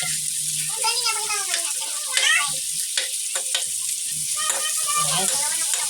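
Garlic and tomatoes stir-fried in a pan, with sizzling and the scrape of a utensil mixing them, while a person speaks over the cooking throughout.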